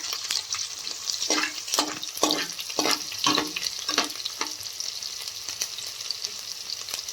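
Garlic and green chillies sizzling in a pan, with several bursts of louder spattering and scraping stirs in the first half, then a quieter steady fry.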